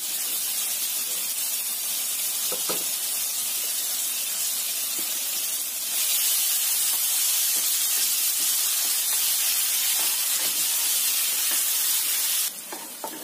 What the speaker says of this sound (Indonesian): Tumis bumbunya sampai matang.